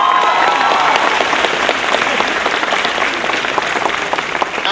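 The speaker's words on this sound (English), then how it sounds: "You can clap for that" Audience at a hip-hop education panel discussion bursts into loud, dense applause, many hands clapping continuously and close, holding steady at full strength for several seconds without voices on top.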